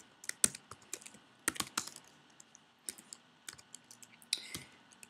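Keys clatter on a computer keyboard as someone types code, giving irregular quiet clicks and short bursts of keystrokes, close by and with no voices.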